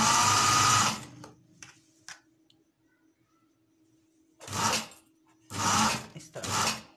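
A sewing machine stitches trouser fabric in three loud, close bursts: one long run at the start, then two short runs near the end, with near silence between them.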